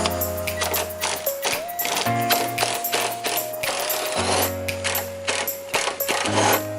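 A hand ratchet clicks rapidly and repeatedly while removing nuts from the spoiler bolts on a 2012 Mustang, with steady rhythmic clicking over tonal background music.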